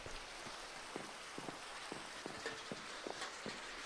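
Steady rain in Minecraft patters on a hard tiled roof, a continuous soft hiss with scattered distinct drop taps, no voices.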